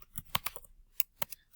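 Someone types on a computer keyboard in a few quiet, separate keystrokes with short pauses between them. No one speaks.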